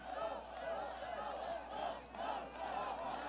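Campaign rally crowd in Long Beach cheering and chanting, a loud swelling roar with rhythmic surges of shouting, mingled voices filling the space.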